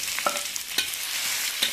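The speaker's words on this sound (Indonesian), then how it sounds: "kita aduk-aduk" Onions sautéing in a pan for fried rice sizzle steadily while a utensil stirs them, scraping and clicking against the pan a few times, close and fairly quiet.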